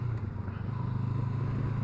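A 2021 Honda CB500X motorcycle rolls on the throttle in third gear uphill, its engine a steady, low droning hum with wind rush heard from the rider's position.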